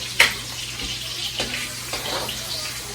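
Onions softening in a hot pan for Ilokano-style pancit canton, a soft steady sizzle with a few sharper crackles and stirring scrapes, fairly quiet and heard alone.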